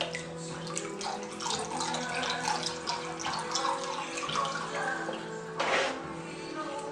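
Water splashes and pours steadily from a container while cucumber seeds are rinsed, a continuous close wash with a brief stronger gush near the end.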